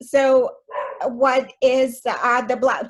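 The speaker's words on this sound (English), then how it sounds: "my dog barking" A dog barks a few times from another room indoors, partly buried beneath close, continuous speech.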